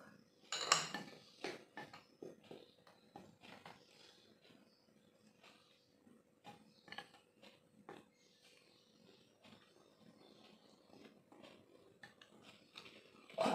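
A utensil stirs batter of seasoned all-purpose flour and wheat flour in a bowl, making soft scraping and intermittent light clinks against the container, quiet and close.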